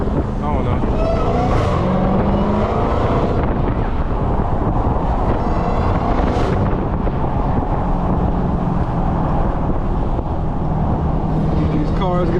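Dodge Hellcat Jailbreak driving at night, a loud engine roar with rising supercharger whine swells and heavy wind buffeting the microphone.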